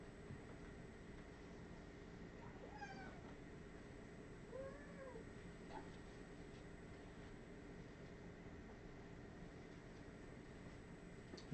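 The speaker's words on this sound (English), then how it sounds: "bring back the cat, so there's the cat" A cat meows a few times, faint and somewhat distant, over a steady low background hum, with the cries spaced apart early on and the rest quiet.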